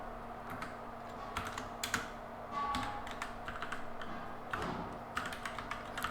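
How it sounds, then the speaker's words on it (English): Irregular clicks and taps of typing on a computer keyboard, with short bursts and pauses, moderately quiet and close. "Hope I'm typing it right."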